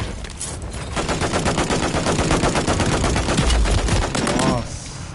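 Rapid automatic gunfire from a Call of Duty Warzone match on Rebirth Island, dense bursts of shots running steadily for several seconds with a louder stretch near the end, set against game ambience.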